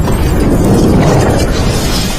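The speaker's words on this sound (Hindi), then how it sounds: "वही वैज्ञानिक अपने शरीर में बंधी ग्रेनेड को ब्लास्ट कर देता है" A grenade strapped to a scientist's body detonates in a sci-fi movie scene, heard as a loud, sustained roaring blast with shattering glass debris filling the whole span.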